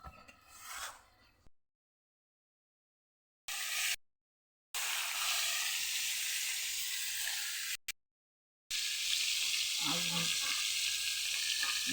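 Fish sizzles as it fries in a wok on a stove, bursts of hissing and crackling broken by silent gaps, with a few light clatters of stirring near the end.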